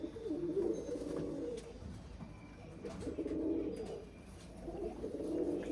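Soft, low pigeon coos repeat in three rolling bursts, close by and gentle, with faint rustling in between.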